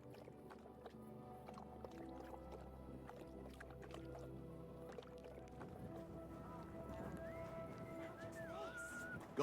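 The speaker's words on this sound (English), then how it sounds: "Esse aqui sim é um cavalo." A horse in the video game Kingdom Come Deliverance II whinnies and snorts amid soft clip-clopping hooves, fairly quiet, with a voice speaking over it.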